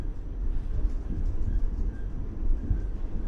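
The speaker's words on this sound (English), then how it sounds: "The train clanked on as it carried the two lone passengers forward" A train rumbles steadily along in Ame's Happy Happy Dating Game, a continuous low rolling drone with faint clanking and rattling, moderately loud and unbroken, with no talking.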